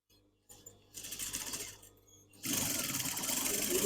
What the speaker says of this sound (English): I am going to go down that and do another row of stitching, just to make sure that it's all nice and secure